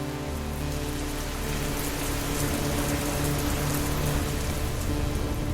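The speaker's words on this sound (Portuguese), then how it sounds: "a chuva é muito forte" Heavy rain pours steadily, a dense, loud hiss with drops drumming on a surface, unbroken for the whole stretch, on a drive toward Lisbon.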